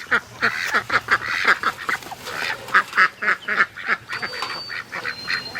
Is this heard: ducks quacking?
yes